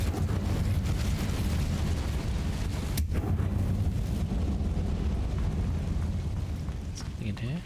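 A fire spell is cast in Hogwarts Legacy as a sustained roaring, rumbling whoosh with a sharp crack near three seconds, thick low-end burning under faint game ambience.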